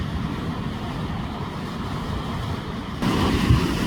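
Steady ocean surf washes continuously on the coast at Sokcho, Gangwon-do, South Korea, before sunrise, with a louder crash of waves near the end.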